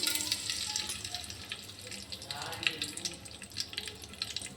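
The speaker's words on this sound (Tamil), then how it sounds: "எண்ணெய் காஞ்சிடுச்சு, கடுகு போட்டுக்குவோம்." Mustard seeds spluttering in hot oil for a tempering, a faint crackling sizzle with scattered small pops, fairly quiet and close.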